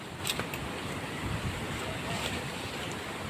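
Steady rushing water with a broad, continuous roar, loud and close, alongside wind buffeting the microphone.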